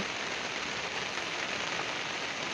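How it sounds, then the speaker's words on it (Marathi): Rain falls steadily on a surface in Konkan, a dense, even hiss of drops without pause or voices. "पाऊस येतो या चालू दे"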